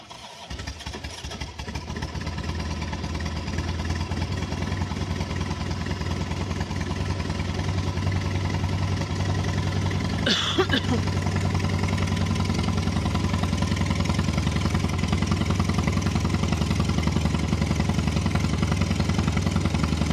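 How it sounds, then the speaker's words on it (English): Motorcycle engine idling nearby, a steady low rumbling throb that settles in after a short start and runs continuously, with a brief rattle midway. "It's a motorcycle."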